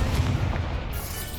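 Confringo blasting spell going off in the Hogwarts Legacy video game: a heavy, rumbling explosion with deep low-end weight that swells and then rolls on steadily for over a second, loud and close.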